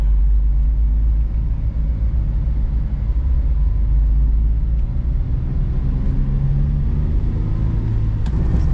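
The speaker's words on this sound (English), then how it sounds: "for a little 660cc engine, like this thing has a nice sound to it" Mitsubishi Bravo kei van with a 660cc engine driving in New York City traffic, heard from inside the cabin as a loud, steady low engine drone and road rumble. The sound is constant, with a slight rise near the end.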